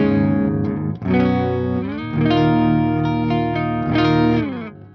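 An electric guitar plays ringing chords through the clean channel of a Peavey Invective 120 tube amp, bright and sustained, loud and alone with no talking.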